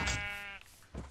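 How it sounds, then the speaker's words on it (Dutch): Sheep bleating in the video game Minecraft: one loud, wavering bleat at the start that fades out, then a short second sound near the end, with no talking. "Nee, waar is dat schaap?"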